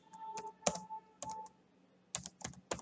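Someone types on a computer keyboard into a Google search box, a few quiet, close key clicks in two short clusters with gaps between, no talking.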